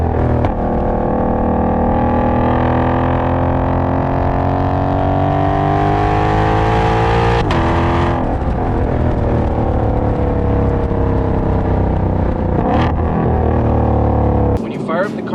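A 2020 Ford Mustang Shelby GT500 engine running loud and close, a continuous deep roar that swells and rises in pitch with revving, shifting briefly near the middle and again near the end.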